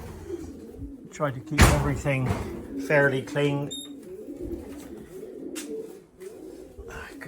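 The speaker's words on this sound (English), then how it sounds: "Birds are out having a fly, stretch their wings" Racing pigeons flying out around their loft, with soft coos and bird calls scattered through, a flurry near the middle and a sharp knock like a door; someone talks over much of it.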